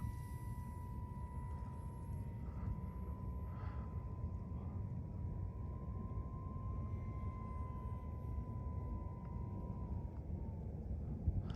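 A fully 3D printed Concorde model plane in flight, a thin steady motor or fan whine heard from a distance over constant wind rumble, slowly fading toward the end.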